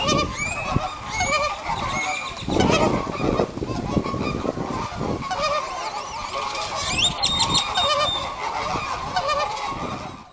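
Flamingos at a zoo honk and squawk in a busy, overlapping chorus, the calls coming in rapid bursts at moderate distance with no voices over them.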